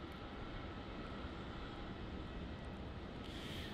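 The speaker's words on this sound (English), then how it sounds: "over there we have that Jetstar, which is taxiing over to the international terminal" A Jetstar airliner taxiing at Melbourne Airport, a steady, loud broadband engine roar that holds constant throughout with no other sounds.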